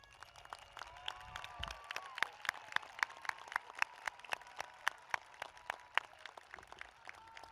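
Scattered, individual claps ring out through a large graduation venue while students stand, sparse and sharp against a quiet background with faint crowd murmur.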